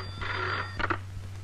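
Electronic telephone ring in a Telugu film scene, one short warbling burst followed by a second brief double pulse, close and clear with no talk.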